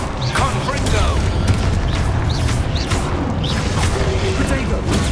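Confringo fire spell blasts in Hogwarts Legacy, a series of booming explosive impacts over dense combat noise and music, with a voice calling out spells.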